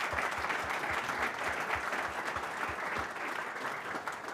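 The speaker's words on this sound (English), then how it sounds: "give a round of applause to our amazing panelists" Steady audience clapping for a panel at a startup technology showcase, a dense even wash of applause lasting about four seconds with no voices over it.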